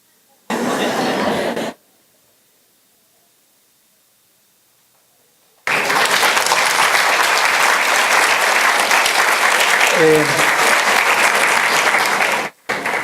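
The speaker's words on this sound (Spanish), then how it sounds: "Entiendo que el aplauso va por la maestra." A conference audience applauds in two bursts, a short clap followed by silence, then a long sustained round of applause, loud and full, with a brief laugh partway through.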